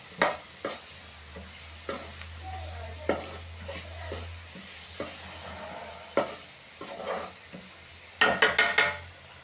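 Bitter gourd stir-fry sizzles steadily in a pan while a spoon or spatula scrapes and stirs it at intervals, with a louder burst of clattering stirring near the end and no voices.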